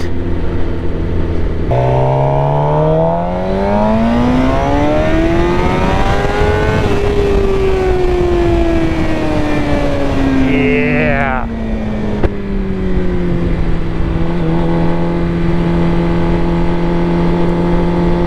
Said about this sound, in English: That exhaust sounds fantastic. That Dan Moto exhaust. Really gives it like an F1 style sound.